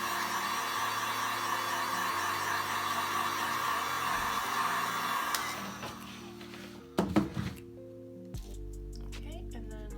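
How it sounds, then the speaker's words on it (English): A heat gun blows a steady, loud whooshing hum as it dries alcohol ink, running continuously for several seconds before cutting off, followed by a few brief clicks and handling sounds. "So then you get the heat gun and just dry it."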